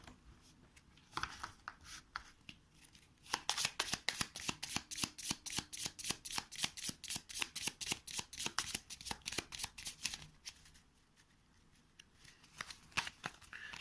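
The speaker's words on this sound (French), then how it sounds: "Je vais mélanger comme ça." Someone quietly shuffles a deck of board game cards. A soft start gives way to a long run of rapid, rhythmic riffling flicks for several seconds, then slows to a few scattered snaps.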